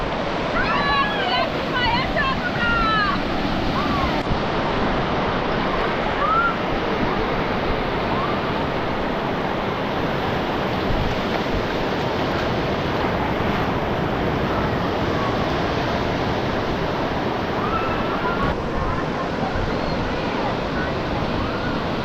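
Sea waves wash and splash continuously at Digha Beach, a steady broadband roar with wind buffeting the microphone and voices chattering faintly underneath throughout.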